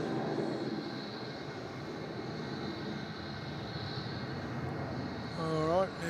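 An airliner departing Melbourne Airport for Perth roars with a broad, steady engine rumble at moderate distance, and a voice is heard briefly at the end.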